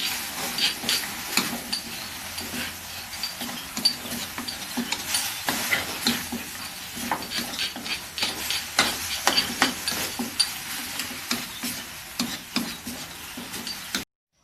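Frog larb (laab kua) stir-fried in a pan over medium heat, a steady hiss and sizzle broken by repeated scraping and clinking strokes of a utensil against the pan, close and continuous with no talking.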